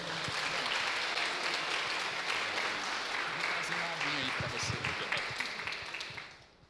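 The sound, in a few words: church congregation applauding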